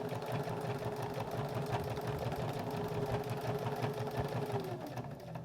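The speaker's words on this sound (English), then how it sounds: "And stitch right on that leader edge" A sewing machine stitches along the edge of a seat belt cover with a steady, moderately quiet whirring hum that runs without a break for about five seconds.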